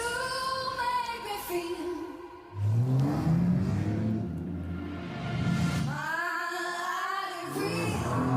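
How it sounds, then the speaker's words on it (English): A Porsche 911 petrol engine revs, the pitch rising and falling through several throttle blips, with a deep engine roar close by and a whooshing sweep. "This is a 911, runs on petrol,"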